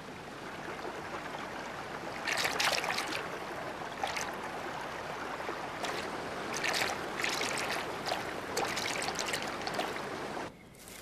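A mountain river in the Drakensberg flows steadily, a continuous close rush and trickle of water with brighter splashing surges throughout, no voices.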